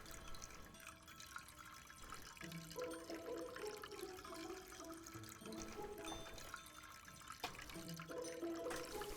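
Liquid chocolate being poured in Chocolate Factory Simulator, a faint, continuous trickling, gurgling flow with shifting watery tones and small splashes, steady throughout with no voices.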